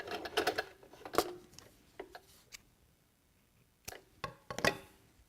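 A sewing machine back stitches a beanie in short bursts of rapid mechanical clatter, separated by quiet pauses, close and moderately loud with no talk.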